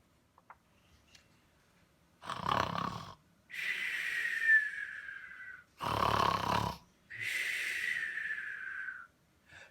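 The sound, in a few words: Santa Claus snoring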